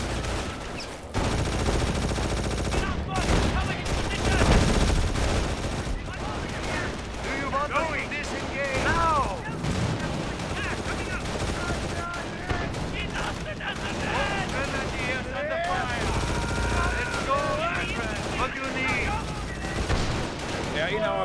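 Battle in the Company of Heroes strategy game, with dense bursts of gunfire, machine-gun rattle and heavy artillery booms, loud and continuous throughout, and voices shouting over the fighting.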